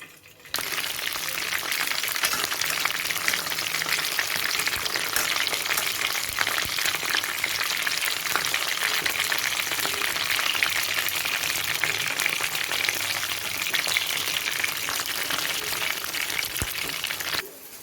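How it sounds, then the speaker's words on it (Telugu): Eggplants sizzle in hot oil inside a covered pan for a Guntur-style gutti vankaya karam, giving a steady, dense frying hiss that holds evenly for about seventeen seconds with no talk. "వంకాయలు ఇలా ఆయిల్లో వేసుకున్న తర్వాత మూత పెట్టుకోవాలి ఆయిల్ చిండిపోకుండా"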